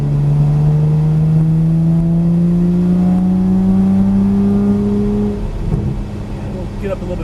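A Porsche Cayman GTS engine drives hard on a race track, its loud, steady note rising in pitch under throttle before easing off, with some background rumble.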